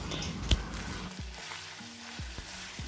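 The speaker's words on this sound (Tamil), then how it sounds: "இது ப்ரௌனிங் மீட் டெக்னிக்கு" Minced mutton keema browning in hot oil in a pan, a soft, low sizzle and frying crackle with a few stirring scrapes and small clacks, fairly quiet.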